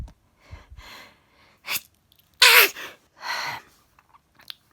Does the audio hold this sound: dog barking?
no